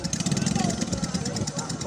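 A motorcycle engine chugs in a steady pulsing rhythm close by, with people talking over it.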